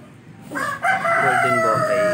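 Backyard poultry pen with chickens crowing, loud drawn-out rooster calls starting about half a second in and carrying on close by, with no talk over them.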